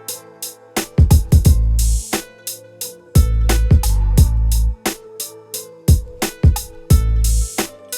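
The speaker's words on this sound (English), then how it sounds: "I added this open hat right here" FL Studio drum beat for an old-school freestyle track, with open hi-hat, reverb-tailed snares and quick ghost notes over heavy kicks, looping in a tight rhythm, loud and with no speech.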